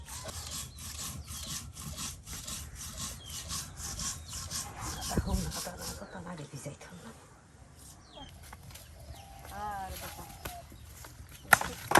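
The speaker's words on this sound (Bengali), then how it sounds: "জিরা রসুন সব একবারে পাটায় বাটা হইতেছে" Cumin and garlic being ground together on a stone grinding slab during village-style cooking of country chicken in Sherpur, giving steady rhythmic scraping and rubbing strokes up close, with voices and outdoor sounds around it.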